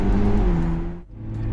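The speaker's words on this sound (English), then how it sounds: "I'm going to show you what 616 horsepower sounds like" A 616-horsepower McLaren MP4-12C revs hard up close, its engine note climbing in a loud, continuous whine, dropping briefly, then surging again.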